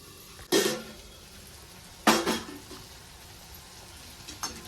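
A lid set down on a pan of softening tomatoes for a Marathi chickpea-greens dry bhaji, giving two sharp clattering impacts about a second and a half apart, then a faint tap near the end.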